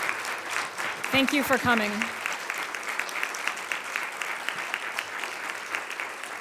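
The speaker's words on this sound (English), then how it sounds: "How about a round of applause for our speakers today?" A luncheon audience at the National Press Club applauds its speakers with steady, dense clapping that fills the room throughout, while someone briefly speaks over it near the start.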